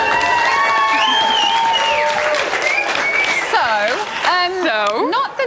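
Studio crowd at a Big Brother UK live eviction cheering and reacting loudly and continuously, a dense wash of applause and shouts with voices mixed in throughout.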